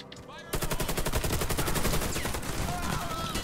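Rapid automatic gunfire in the PC shooter Warface, a dense, loud stream of evenly spaced shots that starts abruptly after a brief moment of quiet and keeps hammering steadily to the end.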